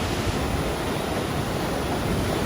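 A waterfall on a river in Norway's Husedalen Valley, partly diverted through pipes to a power station, roars as a steady, dense broadband rush close by, with no voices.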